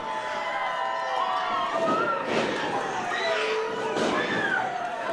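A wrestling crowd roars and cheers loudly and continuously, with shouting voices rising in waves over the din while an announcer talks.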